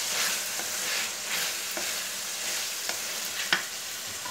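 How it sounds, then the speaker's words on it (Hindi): Kachnar buds being stirred into chicken as it fries in a pan, a steady close sizzle broken by a few sharp scrapes and clinks of the spoon, with no one talking. "अब हम इसमें डालेंगे कचनार और अच्छे से मिक्स कर देंगे।"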